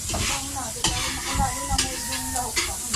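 Chopped onions fry in a pan and are stirred, giving a steady close sizzle broken by scraping strokes of a spoon against the metal.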